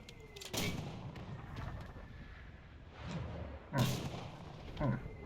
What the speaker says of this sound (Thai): ดูมอต้ายิง ยิงให้ขนาดนี้